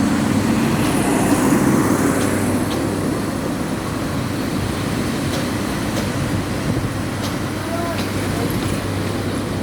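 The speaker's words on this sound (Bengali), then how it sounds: "একদম স্টেশনে এসে ট্রেন থামছে।" An intercity train rolls into a station with a continuous low rumble that holds steady as it comes to a stop. Faint high squeals come through now and then, and people can be heard talking under the noise.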